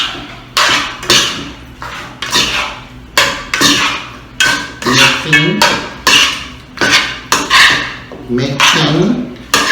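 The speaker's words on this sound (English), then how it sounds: "we would have to mix it all up" A spoon scraping and clanking inside a cooking pot as oxtail with tomato sauce is mixed, loud rhythmic strokes repeating steadily at close range.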